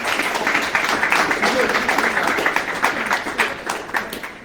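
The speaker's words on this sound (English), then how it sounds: "So give your coaches a round of applause as well" Audience applause for men's and women's soccer coaches at a college selection-show event, a steady, dense patter of many hands clapping at moderate volume throughout.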